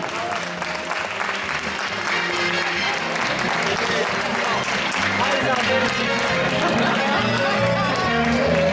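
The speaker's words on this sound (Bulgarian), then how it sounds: "Аплодирайте ги още веднъж, те заслужават тези аплодисменти." Loud, sustained audience applause for a drama group at a festival in Bansko, dense clapping with crowd noise and some voices mixed in throughout.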